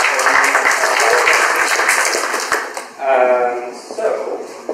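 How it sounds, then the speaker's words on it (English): Audience applause in a crowded cafeteria at a talk, a dense burst of clapping that fades as a voice cheers and speaks over the tail. "round of applause to Andy"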